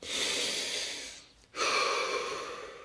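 Slow deep breaths close to the microphone, one long airy inhale tapering off, a brief pause, then another full breath rushing in and gradually fading, with nobody speaking.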